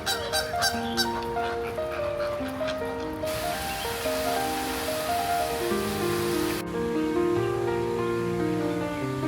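Geese honk repeatedly in an enclosed park in Hong Kong, a dense chorus of loud overlapping calls with a steady wash of ambient noise underneath.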